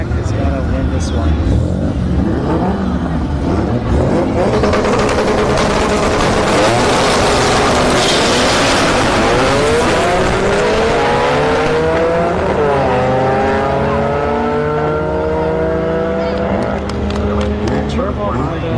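A turbo B-series Honda hatchback launches at a no-prep drag race at Orlando Speed World, its engine roaring loud and continuous with rising revs and a brief tire squeal, while an announcer talks over it.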